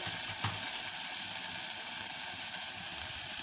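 Spice paste for a prawn curry with curd and coconut sizzles and fries steadily in a pan, a continuous hiss at an even level, with one brief clink near the start and no talking.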